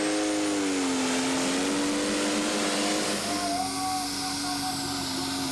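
Rough Justice, a tractor-pulling machine at the 2019 Great Eccleston Eurocup finals, revs hard with huge wheel speed: a loud, steady engine drone with a slowly rising whine, heavy roar and hiss filling the whole stretch, a commentator faintly under it.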